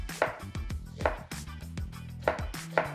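Onions are chopped roughly with a knife on a board, a quick series of loud close thuds in a steady rhythm, about ten strokes with no speech.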